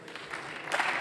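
Brief applause breaks out in the Austrian parliament chamber, a soft, dense patter of many hands that swells toward the end, heard from a distance.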